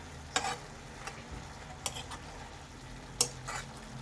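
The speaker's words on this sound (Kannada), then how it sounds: "ನೋಡಿ, ಪಾಲಕ್ ಸೊಪ್ಪು ಚೆನ್ನಾಗಿ ನಮಗೆ ಫ್ರೈ ಆಗಬೇಕು" Chopped palak spinach fries quietly in a pan for palak paneer, with a faint low sizzle broken by a few sharp scrapes and clicks of a spoon stirring against the metal.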